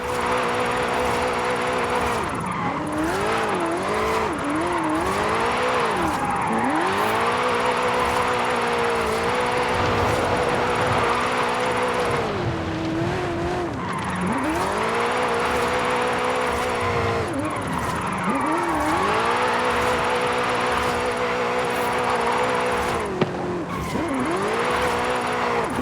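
Car drifting in Forza Horizon 5, engine revving up and down in repeated swells with squealing tires through long slides, loud and continuous with no talk.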